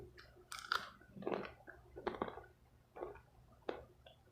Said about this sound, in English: I'm eating a Hershey's bar right now.